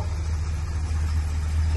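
A classic muscle car engine idles steadily with a deep, continuous low rumble close by, no voices over it.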